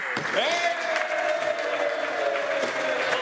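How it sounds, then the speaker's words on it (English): Applause and cheering fill the chamber of the Legislative Assembly of Alberta, a steady dense wash of clapping from many members throughout, with a sustained tonal ring running beneath it. "I'm hoping that we may cheer loud enough that they can hear us out in the rotunda"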